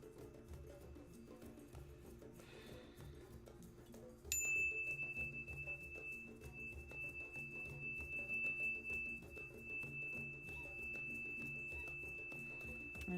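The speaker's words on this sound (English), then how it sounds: "I offer you clearing sound of the bell" A bell is struck once and rings out in a clear, sustained tone that lingers for several seconds, heard during a spiritual meditation over a steady background of ambient music.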